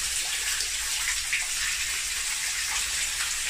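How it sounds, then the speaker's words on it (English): Water pouring steadily into an old underground mine shaft, a constant loud rushing gush that fills the space without pause and with no voices. "There's a lot of water piling in"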